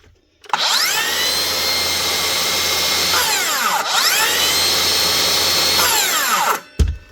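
A repaired Makita XSH06 36V cordless saw motor runs in two whining bursts of about three seconds each, rising to full speed and then spinning down. The sound is close and loud, and a clunk follows at the end.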